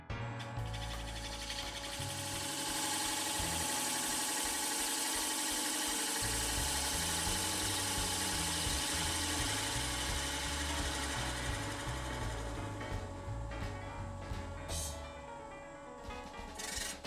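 A wood lathe spins a bowl at 700 RPM, giving a continuous low mechanical hum and whir with a shifting rumble underneath, steady and close for the whole stretch.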